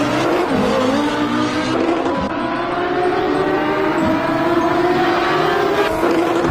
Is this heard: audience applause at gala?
no